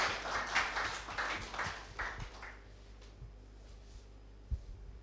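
Audience applause at the Falling Walls Lab Ghana 2023 pitch event as a presenter steps forward. A crowd claps briskly for a couple of seconds, then the clapping thins to scattered, fading claps in a quiet hall.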